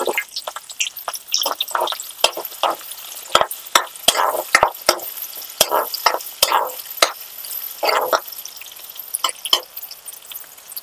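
Chopped onions frying in a pan of oil with tempering seeds for a brinjal dish, a soft sizzle broken by sharp crackles, pops and repeated scraping stirs.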